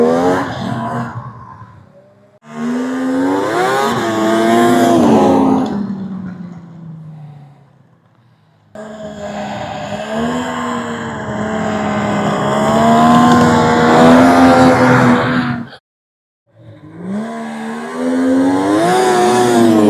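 A Polaris XCR snowmobile engine revs hard in long rising and falling sweeps, cutting out briefly twice before roaring back, loud and close, the track locking and the back end sliding and skidding, after dark.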